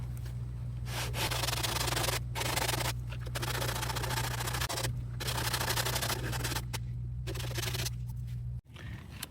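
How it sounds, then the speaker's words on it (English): Steady, continuous sanding on a car door, a rough rhythmic rubbing that runs almost without pause, close and fairly loud, with a few brief breaks. "So we're just gonna start sanding again."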